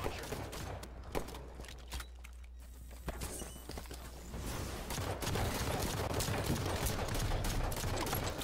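Rifle gunfire in the Halo 5 video game, a busy run of rapid shots and sharp cracks layered over dense in-game action noise that grows louder and thicker toward the end.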